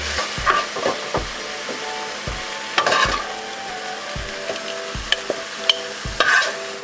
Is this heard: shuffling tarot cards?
no